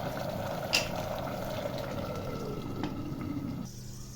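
Water coming to a boil in a pressure cooker holding beef and chickpea lentils gives a steady, low bubbling rumble with a faint hiss. It carries on evenly under a light clink, then eases off near the end.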